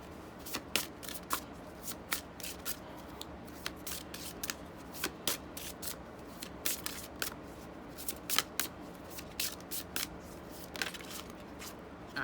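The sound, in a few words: tarot cards being shuffled and drawn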